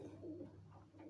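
Pigeons cooing softly, a brief low throaty coo phrase, fairly faint against a quiet background.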